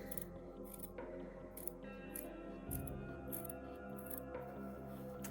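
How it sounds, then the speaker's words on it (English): Scissors snipping through the backing of fur fabric while cutting out teddy bear pieces, a steady run of soft close cuts with brief crisp bursts spaced about every second. "So scissors in and then just snip through the backing until we've got, you go around the edge like this."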